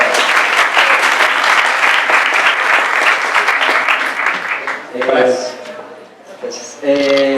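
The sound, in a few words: audience applause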